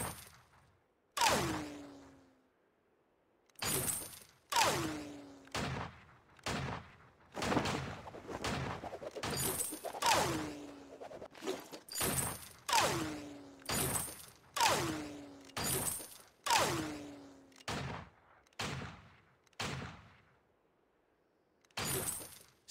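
Video game shooting in Vainglory, a long series of sharp, cracking shot and impact sounds fired in quick bursts, loud against near silence between them, with no talking.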